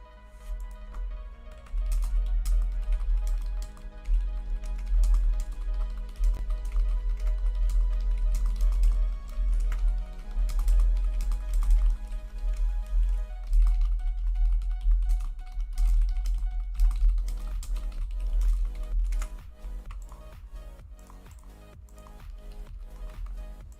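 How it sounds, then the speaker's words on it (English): Rapid, continuous clicking of keys on a computer keyboard over a steady low hum, quickening in bursts toward the end. "Typing intensifies."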